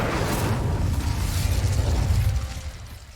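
An Incendio fire spell in Hogwarts Legacy, a loud rushing blast of roaring flame with heavy low rumble that swells for a few seconds and then tapers away.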